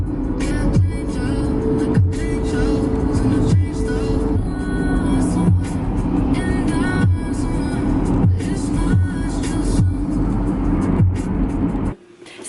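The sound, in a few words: car driving home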